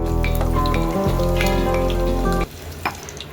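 Two dried red chillies hit hot oil for a tempering for pepper rasam, giving a loud, dense, close sizzle that runs steadily before cutting off abruptly, leaving a quiet background with a single small tap.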